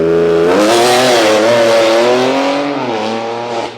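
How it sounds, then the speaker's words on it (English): A BMW M4 engine revs hard and close, a loud sustained roar rising in pitch then holding before easing off near the end. "Would you rather have us or this BMW M4 car?"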